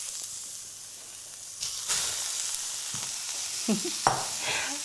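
Beef mince browning with vegetables in a frying pan for cottage pie, a close hissing sizzle punctuated by several sharp spatula scrapes and stirs, with no talking.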